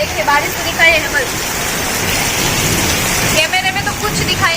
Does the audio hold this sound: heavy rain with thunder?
yes